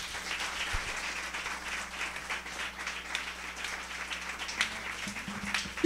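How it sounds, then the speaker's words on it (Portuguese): A church congregation at a Brazilian Portuguese evangelical service claps and applauds the Lord. Many hands make a steady, fairly distant patter that holds at an even level and never breaks into speech. "Se você crer, pode aplaudir o Senhor."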